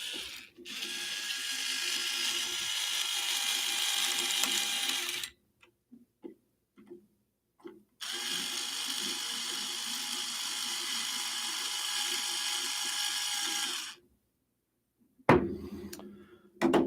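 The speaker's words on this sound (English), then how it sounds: "Put down like so. And then screw those down." An electric screwdriver drives screws into a 3D-printed part for a Prusa MMU2S multi-material upgrade, with two long steady whirring runs of several seconds each, broken by short clicks and quiet gaps.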